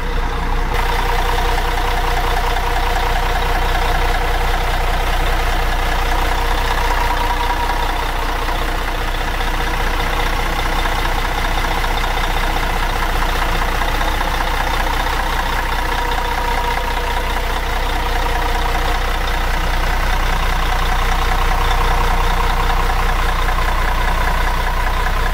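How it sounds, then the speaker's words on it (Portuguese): A Marcopolo G8 bus diesel engine idles loudly and steadily close by, a constant low rumble with a rattling hum that never changes pace. "Agora, vamos ver aqui esse motor em funcionamento?"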